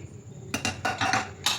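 A few quick metallic clanks and rattles of a cooled pressure cooker lid being twisted and lifted, close and brief, with no talking.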